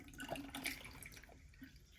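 Water being poured out of an ear during ear-wax cleaning, a faint, brief trickle with a few small drips, heard close up and alone.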